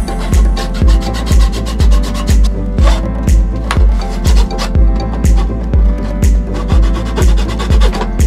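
A handsaw cuts diagonally through a piece of wood for a large slingshot. The rasping strokes repeat in a steady back-and-forth rhythm, roughly three per second, close and loud throughout, with no talking.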